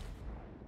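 A Kamiji cannon shot in the video game Genshin Impact, heard as a short, loud, dense boom of blast rumble filling the whole moment.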